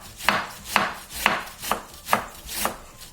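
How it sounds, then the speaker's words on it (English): A sharp knife slices thinly through cabbage on a board in six evenly spaced crisp chops, close and clear against a quiet room. "So I'll just shred the cabbage."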